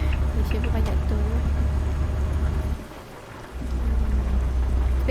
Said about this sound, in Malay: hujan tak lebat macam tadi kan